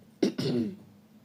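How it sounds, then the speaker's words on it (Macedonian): A person coughs and clears their throat in two close bursts, the second longer and rougher, fading out quietly afterward. "сега кашлам, пошто доаѓа"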